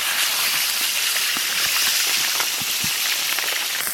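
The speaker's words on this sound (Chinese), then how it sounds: "翻过来煎另一面。" A steady hiss of snakehead fish frying in oil after being turned to its other side, a constant sizzle with a few soft pops and no voices.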